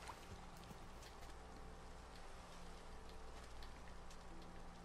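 Steady rain falling in Minecraft, a faint, even hiss of drops pattering on surfaces throughout, with no voices.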